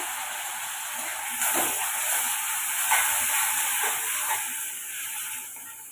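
Medium-cut onions sauté in hot oil in a pan for a paneer masala, giving a steady, close, loud sizzling hiss with a few soft surges as they settle.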